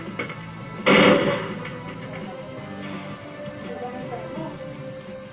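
A single loud gunshot from a Russian military assault rifle of the AK-12 to AK-15 family cracks sharply near the start and then fades into a quieter background, with people talking and reacting around it.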